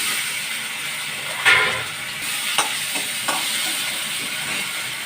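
Onion and potato frying with a spoonful of ginger-garlic paste being sautéed, a steady bright hiss of sizzling oil with a few stirring knocks, close and continuous without speech.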